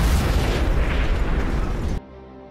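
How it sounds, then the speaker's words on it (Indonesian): A cattle truck blows up in a film scene: a loud, sustained explosive roar for about two seconds that cuts off abruptly into quiet. "truk sapinya meledak tepat di depannya"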